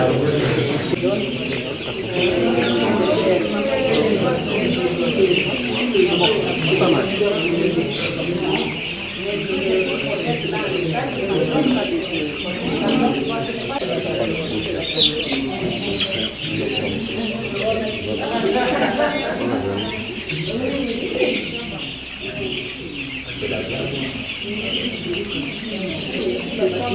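Laying hens at a poultry farm in Lubumbashi, a dense, steady chorus of clucking and cooing from many birds that fills the space, with people talking over it throughout.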